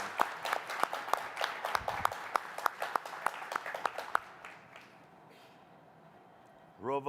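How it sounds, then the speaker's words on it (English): Live audience at an Earthx2026 stage event claps for about four seconds, sharp distinct claps of a modest crowd rather than a roar, then fading into quiet room tone before speech resumes. "Applause for all of us."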